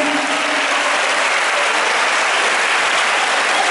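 Steady, dense clapping from a crowd at a children's festival show, loud and close, sustained evenly throughout with no talk over it.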